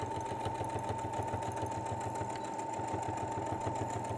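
A sewing machine backstitching over a seam on a travel pouch, running as a steady, fast mechanical whirr with a rapid needle rhythm, heard alone and fairly quiet throughout.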